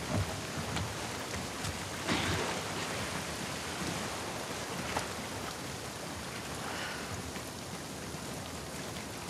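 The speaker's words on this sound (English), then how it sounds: "get out of the rain." Rain falls steadily in The Last of Us Part II, a soft, continuous patter of drops on surfaces with a few louder splashes, heard alone at low level.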